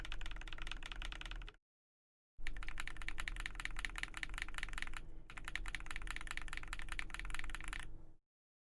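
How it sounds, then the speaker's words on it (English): Steady, rapid typing on a mechanical keyboard fitted with Holy Panda tactile switches, a close, dense run of clacky keystrokes in two bursts separated by a short pause, with no voices. "I love the sound of Holy Pandas."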